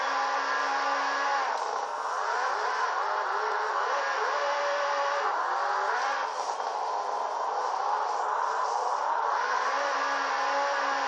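A sprint car engine in a racing game, driving along the wall, holds a steady high-pitched whine with small rises and dips in revs throughout, loud and continuous with no talk.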